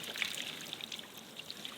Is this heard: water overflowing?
yes